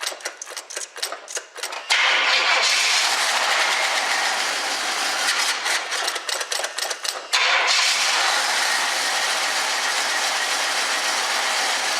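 A 1976 Pontiac Firebird Formula cranks in rapid rhythmic bursts, fires, and settles into a loud steady idle, with a second bout of cranking mid-way before the engine runs on evenly to the end.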